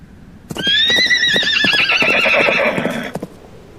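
A single horse gives a loud, close whinny that rises and wavers for about two and a half seconds, with light hoof clip-clops before and after it.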